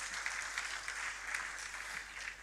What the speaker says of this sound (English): So can we just give Nigeria a round of applause?